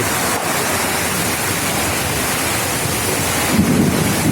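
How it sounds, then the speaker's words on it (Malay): Strong storm wind in Pidie, Indonesia, roars loud and close into the microphone as a continuous broadband rush. Near the end it gusts harder. "Angin kencang melanda"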